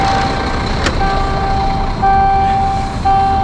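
A Scania truck with a mounted forklift gives off a loud, steady tone layered with an engine drone, cutting out briefly and resuming in several sustained stretches close by.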